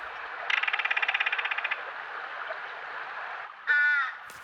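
A loud, fast mechanical rattle of a bird call rings out for about a second, followed later by a shorter harsh burst over running water.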